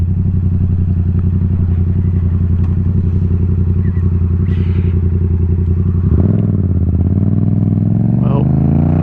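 A 2021 Yamaha MT-07 motorcycle pulls away from a stop sign: a loud, close, steady engine drone that rises in pitch toward the end as the revs climb.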